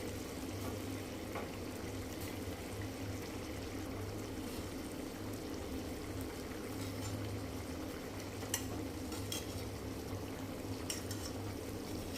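A pot of water at a steady rolling boil, ready for eggplants to go in for a stuffed eggplant curry, with a continuous low bubbling rumble and faint scattered pops, close and steady throughout with no talking.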